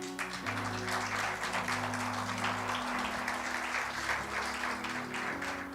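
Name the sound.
congregation applauding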